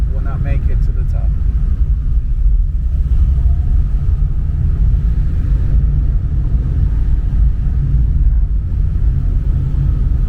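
A small car climbs a steep mountain road toward La Catedral, its engine and tyres giving a steady, close low rumble that never lets up, with faint voices inside the cabin.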